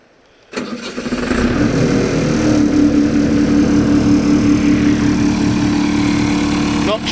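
A Lincoln E 500S diesel welder generator starts up after a short quiet moment, then settles into a steady, loud, close diesel idle that runs to the end.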